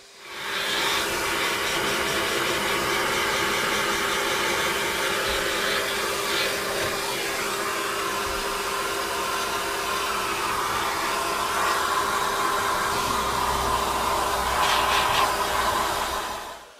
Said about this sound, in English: Both the dash and centre console with their numerous switches, vents, gauges and bezels were then gently vacuumed off.